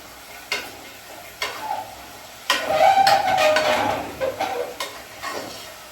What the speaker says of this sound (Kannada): ಸ್ವಲ್ಪ ಒಂದು ಆಲೂಗೆಡ್ಡೆ ಆ್ಯಂಡ್ ಒಂದೇ ಒಂದು ಬದನೆಕಾಯಿನ ಕಟ್ ಮಾಡ್ಕೊಂಡಿದ್ದೀನಿ ಅದನ್ನ ಹಾಕೊತಿದ್ದೀನಿ